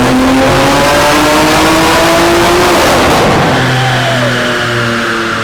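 A 1,000 hp BMW G80 M3 is run on a dyno, its engine revving loudly and continuously with rising, then resetting pitch sweeps, close up with no talking.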